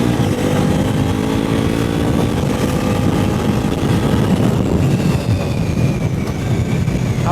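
A 2025 Bajaj Pulsar NS400Z motorcycle with ride-by-wire throttle revs hard, its loud engine rising and falling in a rough, throaty roar held close to the bike for several seconds.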